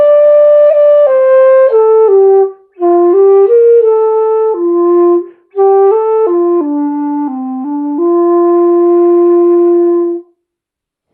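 A breathy, mellow dongxiao, a Chinese end-blown flute, plays a slow melody in sustained phrases with brief pauses between them, solo and close.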